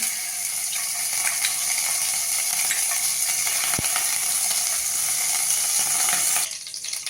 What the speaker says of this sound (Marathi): पॅन तापायला ठेवलंय बटर घालते त्याच्यामध्ये